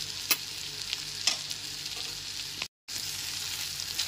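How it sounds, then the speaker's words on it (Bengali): Chopped tomato and green chili being stirred in a frying pan, a steady close sizzle with a few sharp scrape clicks from the spatula and a brief cut to silence near the end. "এবার খুব ভালো করে মিশিয়ে নিতে হবে"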